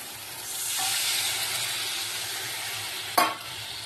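Fish pieces frying in hot oil sizzle steadily as a little water is added for a fish kalia curry, with a soft stir and a sharp clatter near the end; no one speaks.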